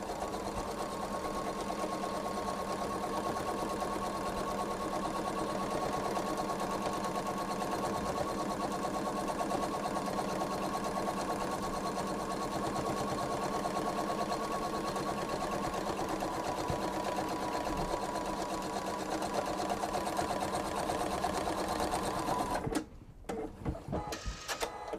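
A sewing machine runs steadily while stitching a quilted travel tote, a continuous close mechanical whir with rapid needle ticking for about 23 seconds before stopping abruptly.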